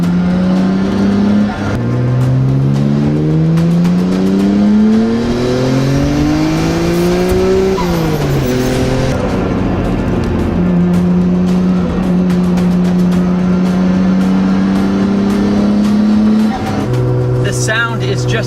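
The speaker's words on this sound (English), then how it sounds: "Sound is just a Japanese symphony of 6 cylinders firing in a straight line." Nissan GT-R R35-derived straight-six twin-turbo engine in a four-door sedan, about 430 all-wheel-drive horsepower, revving up through gears in loud rising sweeps with brief shift breaks, close and dominant throughout.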